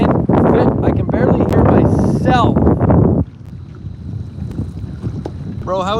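Strong wind gusting on a lake during fishing, loud buffeting noise over the microphone, with a person talking over it for the first half before the roar drops to a lower rumble.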